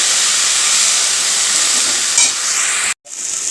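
Jute leaves fry with prawns in a pan, a loud, dense hiss of steam and sizzling oil with soft stirring underneath, cutting out briefly before the sizzle resumes.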